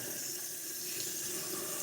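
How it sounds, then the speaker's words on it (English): Tap water runs steadily into a sink as a Barbie doll's hair is washed with soap, a continuous close rushing splash with no voices. "Now I'm going to wash her hair again in soap."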